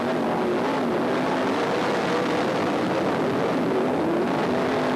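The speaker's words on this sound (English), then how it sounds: "Gotta love the sound of that number 1 car on the gas as it carries her on board." On-board sound of the number 1 sprintcar held on the throttle at Premier Speedway, Warrnambool, during the 2003 Grand Annual Sprintcar Classic: a steady, loud, unbroken engine roar with no pause or talk.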